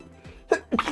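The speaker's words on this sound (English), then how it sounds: "Had to sneeze there." A single sneeze bursts out, short and close, during an online Pokémon card game session, following a brief quiet stretch.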